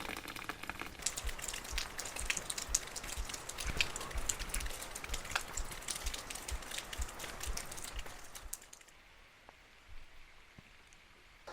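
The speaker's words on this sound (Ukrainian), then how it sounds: "Чудова погода, трошки йде дощ." Light rain patters steadily on surfaces outdoors on a quiet morning in the hills, a dense soft crackle that fades to near silence toward the end.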